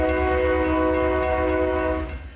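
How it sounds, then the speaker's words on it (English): A loud, sustained train horn from an Essex Terminal Railway locomotive sounds at night in South Walkerville, with a steady chord holding for about two seconds before tailing off, under a low rumble and faint rhythmic clatter. "This whistle is keeping people in South Walkerville up at night."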